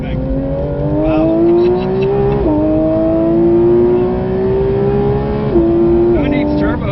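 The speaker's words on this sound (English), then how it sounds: "Who needs turbos when you have this engine?" A Porsche 992 GT3 RS engine wails loudly as it accelerates on the Nürburgring, its pitch rising through the gears with two distinct shifts, heard close up from inside.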